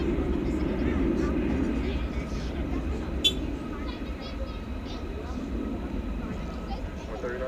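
Airplane at DFW Airport on runway 18 left, a low, steady jet engine roar in the distance with a clear voice talking over it.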